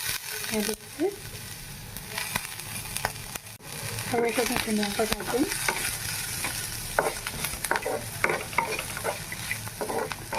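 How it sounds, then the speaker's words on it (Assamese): Dried fish frying in a pan with salt and turmeric over low heat gives a constant close sizzle with repeated spatula scrapes and stirring clatter, while a voice speaks briefly over it. "নিমখ আৰু হালধি দি অকণমান সময় ভাজিলোঁ"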